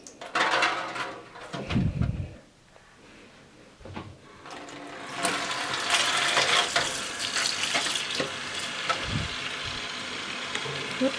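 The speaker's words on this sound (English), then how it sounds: "We're going to be rinsing these now that they have come down to room temperature" Water running from a tap as yarn is rinsed in a sink, a steady splashing wash that swells louder in the second half, with brief handling knocks and clatter near the start.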